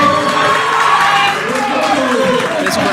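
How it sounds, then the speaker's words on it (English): A powerlifting meet crowd cheers and shouts loudly and continuously, excited voices and claps forming a dense roar, with a commentator talking over it. "This crowd is up and excited. And if you can't hear me, that's why."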